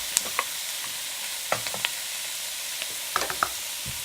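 Chopped onions, carrots and celery sizzling in a hot pot, a steady hiss dotted with scattered crackles and stirring scrapes, close up with no talking.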